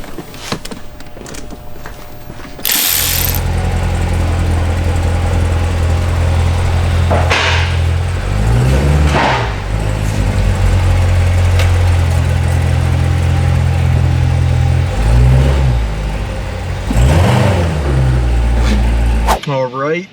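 A stock 2015 Chevrolet Corvette Z06 (C7) engine starting up and idling with a deep loud rumble, then revved several times in quick climbing blips that fall back to idle, close by, with people talking at times.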